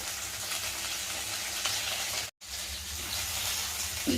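Ingredients for a coriander tomato chutney fry in a pan with a steady, close sizzle and occasional stirring scrapes, broken by a brief silence midway.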